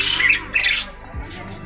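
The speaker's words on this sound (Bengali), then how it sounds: "এগুলো কয়েল পাখি, এগুলো কয়েল পাখি।" Koel birds at a village festival give two loud, harsh squawking bursts close by, followed by quieter background noise.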